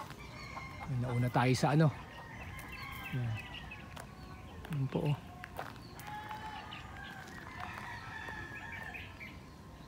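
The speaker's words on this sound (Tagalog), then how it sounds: "may nagalit yung manok kasi pumasyal ako" A chicken clucks and squawks in agitated bursts near the recorder at a hillside grotto in Angono, with a person talking briefly in between amid outdoor background noise.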